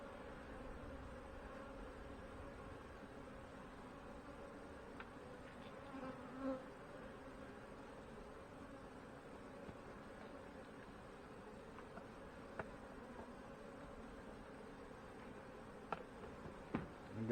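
Soft, steady honey bee buzzing hums faintly, with a few small clicks and taps scattered throughout.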